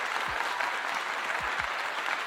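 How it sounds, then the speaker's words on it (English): Applause-like broadband clatter fills about two seconds steadily, a single person clapping hands in celebration, fairly close and even in rhythm, with no talking over it. "This announcement is so great, I got to clap for this."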